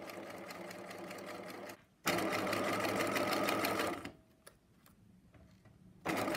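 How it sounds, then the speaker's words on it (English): A sewing machine stitches a corset seam in steady fast bursts, pausing briefly twice before running on, close and clear with no talk over it. "Sew the seam together as normal."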